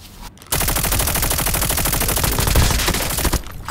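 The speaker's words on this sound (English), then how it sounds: "He's using a shotgun." Rapid, sustained shotgun gunfire in a video game squad match, loud dense blasts repeating for about three seconds after a brief quiet start.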